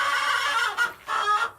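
Hens cluck in a backyard coop at the end of the day, a few close, drawn-out bursts with short pauses between them.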